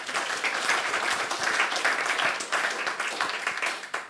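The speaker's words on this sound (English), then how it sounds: "can I have a massive round of applause for Eamon O'Keefe?" Audience applause for a speaker at a talk on a rainy day, a steady wash of clapping from a crowd held at moderate level for the whole stretch, tapering slightly near the end without any talking.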